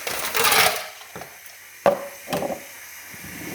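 Ice cubes tumble into a blender already holding water for a replacement shake, a loud crunchy clatter followed by a few scattered clinks and knocks, close up, with no talk.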